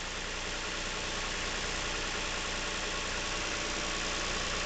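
A Lincoln MKX engine runs steadily at idle, with a broadband mechanical clatter and faint knocking from the back of the motor near the cam phasers and chains, continuous and close, with no talking.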